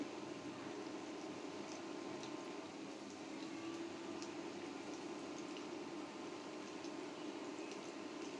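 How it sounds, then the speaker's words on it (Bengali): Eight lentil fritters (dal bora) fry in a home pan of oil and are flipped over one by one. They give off a steady, dense sizzle and bubble close by, with faint crackles and no talking. "ডালের বড়াগুলো এখন উল্টিয়ে পাল্টিয়ে দিচ্ছি।"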